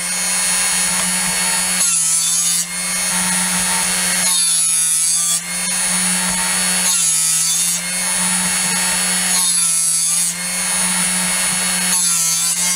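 A Drill Doctor 350X sharpener grinds a drill bit in repeated passes, a loud rasping grind that swells and fades about every two and a half seconds over a steady motor hum.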